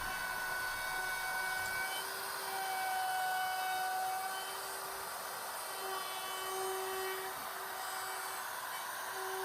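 A power tool cuts a chamfer around a walnut top cap for a daybed, giving a steady high whine with a droning hum that runs unbroken and fairly faint throughout.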